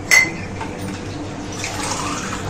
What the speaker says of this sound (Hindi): अब इसमें हम व्यूअर्स सिर्फ पानी डालेंगे, वो भी थोड़ा सा डालेंगे